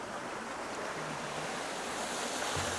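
Steady broadband rush of a small waterfall among rocky gardens and tree ferns in the Blue Mountains Botanic Garden, a constant near, even flow with a few faint low tones and no talking.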